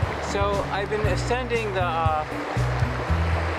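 A strong river current rushes steadily in the background while someone talks over it, the flowing water a continuous wash beneath his voice.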